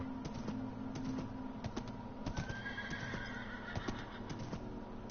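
A horse in the Minecraft video game neighs with a shrill, shaky whinny, along with hoof clip-clops and steady background game noise.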